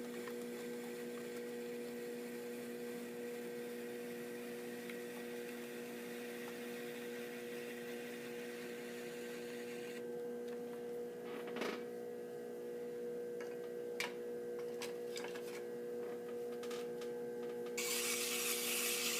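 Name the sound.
trimming a clay bottle on a pottery wheel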